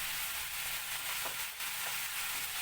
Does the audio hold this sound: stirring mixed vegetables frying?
yes